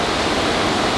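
Spring water at a trout ranch rushes in a loud, dense, steady flow, close and continuous like a small waterfall, with no voices.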